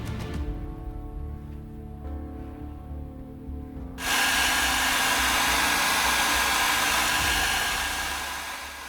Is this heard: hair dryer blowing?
yes